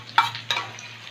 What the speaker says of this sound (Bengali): এবার ওলকপিটাকে একটু ভেজে নেব